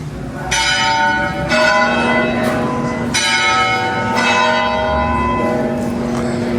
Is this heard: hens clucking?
no